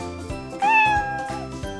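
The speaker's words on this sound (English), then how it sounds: "That's right, it's a cat." A domestic cat meows once, clear and close, rising then falling over a steady musical background of a children's farm animal sound game.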